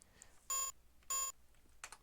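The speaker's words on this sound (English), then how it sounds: "Wait, what is that beeping?" Two identical electronic beeping bursts sound in a 1987 Sierra Space Quest II computer game, spaced about half a second apart over faint background noise.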